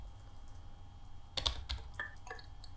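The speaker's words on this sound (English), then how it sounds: "let me try typing something" Typing on a computer keyboard while playing the game Emily Is Away: a short run of close, crisp key presses over a low steady hum.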